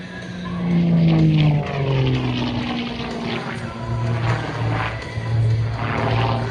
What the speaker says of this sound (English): knife edge spin with the fuselage on the upline for the Fury and Stephen Covington.